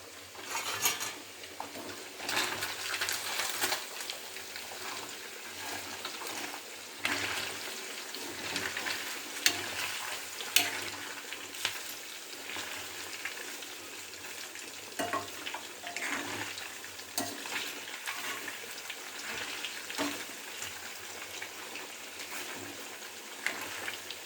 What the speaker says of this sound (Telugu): సన్ఫ్లవర్ ఆయిల్ అన్ని అలా డీప్ ఫ్రై చేసుకుంటున్నాను